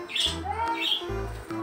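A tame pet bird gives two or three sharp, close, loud squawks in quick succession, with no talking.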